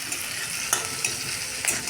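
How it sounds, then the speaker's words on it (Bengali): Green chilli and ginger frying in a pan for a vegetarian chana dal, a steady bright sizzle with a couple of faint stirring clicks, close and continuous without speech. "সব ভেজে নিতে হবে"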